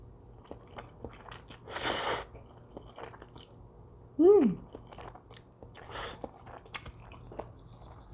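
Someone eats kimchi cream pasta up close, with a few distinct bites and crunchy chewing sounds separated by quiet moments and a brief vocal sound in the middle.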